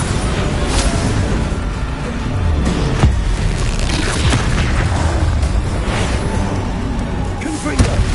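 Bombarda spell explosions in Hogwarts Legacy combat, deep rumbling booms and sharp bursts striking repeatedly through a continuous dense roar of battle noise.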